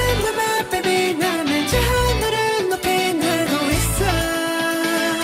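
A pop song plays with a sung vocal melody over punchy bass and drums, full and steady throughout.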